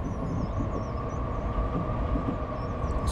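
A Frankfurt U-Bahn train on line U3 rumbles steadily past in Train Simulator 2019, a continuous mid-loud rail drone with a faint high whine and no talk.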